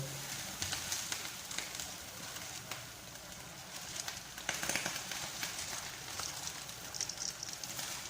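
Rice goes into boiling water in a pot while Adeni rice is being cooked: a steady, close bubbling and hissing rumble with scattered crackles and splashes, and no talk.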